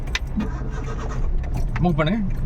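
A manual car driven by a trainee pulls away in second gear, its low steady engine rumble running beneath a voice talking nearby.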